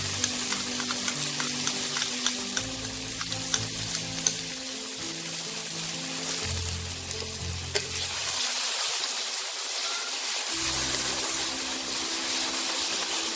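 Ginger garlic paste frying with onions in a pan for a coriander chicken curry, giving a steady close sizzle with scattered crackles and stirring scrapes throughout, and no talk.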